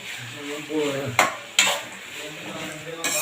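Onion, green and dried chilies and tomato frying in oil in a pan for a country-chicken gravy, with a steady sizzle, soft stirring scrapes and two sharp utensil knocks against the pan.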